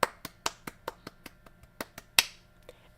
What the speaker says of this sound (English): And as he's clapping in his chair.